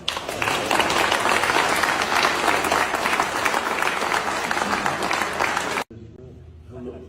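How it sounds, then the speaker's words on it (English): A repeated clapping sound effect plays on a live stream, loud, dense applause running continuously for several seconds before stopping abruptly, leaving faint background sound. "Is that just clapping over and over and over being fucking annoying for you?"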